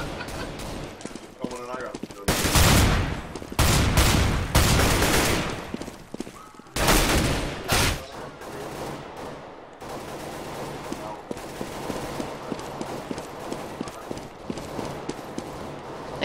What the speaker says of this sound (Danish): Jeg kan bare høre en masse skud